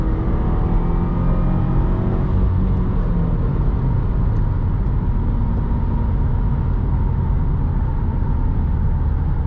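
A 2016 Subaru WRX Premium with a 6-speed manual cruises on the highway, a loud, steady drone of engine, tire and wind noise heard from inside the cabin without talk.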